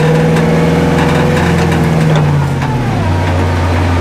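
A car engine revs hard at close range during donuts, a steady loud mid-pitched roar that shifts lower and settles near the end, with no voices over it.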